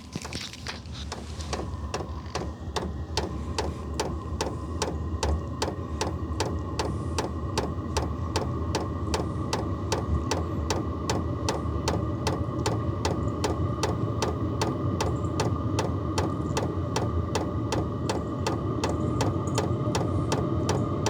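VEVOR diesel heater running up to speed, a steady mechanical whir with a regular ticking fuel-pump pulse throughout, close and fairly loud, building slightly as it ramps up, with no talk.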